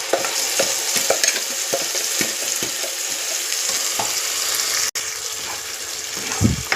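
Ground masala with chopped onion and curry leaves fries in a pan for egg sambar, a loud steady sizzle with repeated spoon scrapes and taps from stirring close by, no voices.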